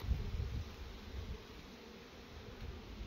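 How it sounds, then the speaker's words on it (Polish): A wasp buzzes among beehives at an apiary, a faint, steady, thin drone over low outdoor rumble with no voices. "Osa."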